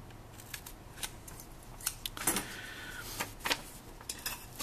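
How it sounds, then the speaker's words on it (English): Aluminum sheet for a SumoBot chassis is snipped to cut a small triangular notch, a series of close, crisp metallic clicks and crunches in irregular bursts with no talking. "cut a little notch, little triangular notch right in the front"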